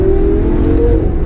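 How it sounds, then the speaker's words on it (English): A car engine roars loudly up close as it revs through downshifts, giving a continuous growl with no speech over it. "Oh, there's downshifts."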